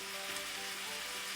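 Meat and onions frying in a pan for red chile enchiladas give a steady, even sizzle, close but soft, with no voices over it.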